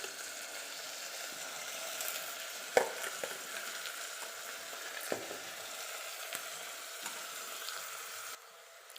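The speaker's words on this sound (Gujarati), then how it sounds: "હવે એમાં એડ કરીશું જે આપણે દાળ અને ચોખા પલાળીને રાખ્યા હતા તે." Soaked lentils and rice tipped into a pan for kadhi khichdi, a continuous soft sizzling hiss with occasional stirring scrapes and light knocks, close and quiet.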